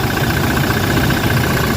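A Toyota Fortuner's 2GD diesel engine idles steadily up close, a loud, even rumble with a faint knocking texture and no voices over it.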